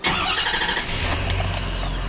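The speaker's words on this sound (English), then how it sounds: "And you can hear for a diesel engine, it actually starts up pretty quickly, and it's also very quiet." A 2013 Ford F-350 Super Duty diesel pickup cranks and fires quickly, then drops into a low, fairly quiet idle rumble heard up close with no talking.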